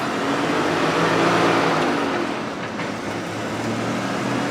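A Ford F250 4x4 dually pickup with a manual gearbox pulls along in a low first gear, its engine and road noise forming a steady, loud, continuous rumble heard from inside the cab.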